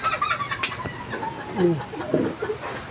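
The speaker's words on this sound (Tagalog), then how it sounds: "Meron din siya mga manok." Chickens cluck at a relative's house in the Philippines, with short clucks and calls nearby over a steady outdoor background.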